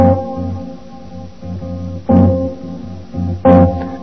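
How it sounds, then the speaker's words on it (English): Jazz guitar plays a major seven flat five chord, strummed and ringing close and clear, with several restrikes of the chord letting it sustain between attacks; no talking over it. "you'll have a major seven flat five, which sounds like this."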